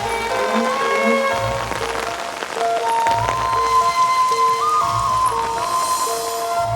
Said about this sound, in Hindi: बाहर बारिश कितनी हो रही है?